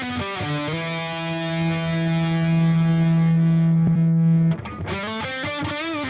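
An electric guitar played through the tube driver overdrive of a Mooer GE300 amp modeler rings out as sustained, distorted notes, loud and alone, with one long held tone before a fresh attack near the end.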